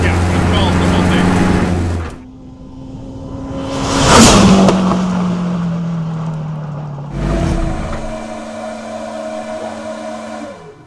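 A K24 turbo-swapped Renault Clio pulls hard in a straight line, its engine note rising through the gears with a sharp burst mid-run, loud and close from inside the car, while people talk over it.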